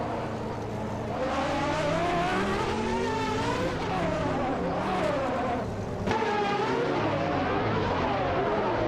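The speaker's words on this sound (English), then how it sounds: "Bot 6 Basics is driving a 1996 Mitsubishi GTO" A 1996 Mitsubishi GTO race car roars steadily through a racing video game, its engine note rising and falling as other cars of the same model race nearby, with a loud, continuous drone and no talk.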